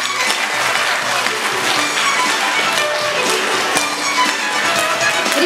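Enthusiastic applause from the audience at a 9th-grade graduation ceremony at School No. 28 in Bryansk, a steady dense clatter of many hands clapping throughout, close and continuous with no speech.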